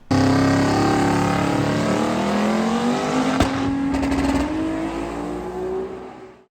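A Ford Capri race car with a turbo and an ignition fault roars hard down the strip on a heads-up race pass, its engine note steady and loud and rising slowly, with a brief crackling stumble midway.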